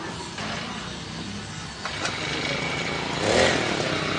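A Vitu Mauli farm engine runs steadily after starting, a continuous close mechanical drone with a brief rise in loudness near the end.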